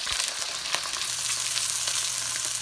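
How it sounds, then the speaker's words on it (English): Steady hiss and crackle of fish frying in hot oil, close up and continuous, with faint spits and pops and no talking. "we're coming to the end of frying the rest of our fish"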